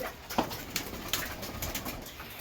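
Pigeons coo in a low, steady murmur while pecking at brick dust grit, with a few sharper flutters or pecks standing out over a constant outdoor background.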